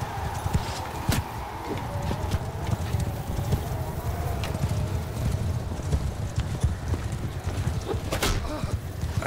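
Cavalry horse hooves gallop steadily in a medieval strategy game battle, a dense continuous patter of clip-clop under a busy battlefield din with occasional sharper hits, no voice over it.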